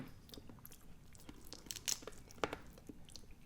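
Crunchy bites into a seafood boil of crawfish and shellfish with Cajun cheese sauce, a few close crisp crunches and chewing sounds scattered over a quiet background, no talking.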